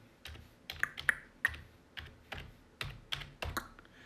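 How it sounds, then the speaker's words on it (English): Keys clack on a Corsair K57 RGB wireless keyboard, typed slowly with one hand: a dozen or so separate, crisp, close-up keystrokes at an uneven pace, with no voices. "So I'm gonna just type something."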